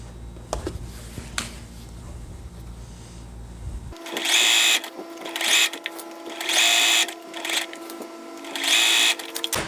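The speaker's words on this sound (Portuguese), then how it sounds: "E vou costurando o zigue-zague totalmente em cima do elástico." A domestic sewing machine runs a zigzag stitch over elastic in several close, even bursts with short pauses, after a few seconds of quiet room sound.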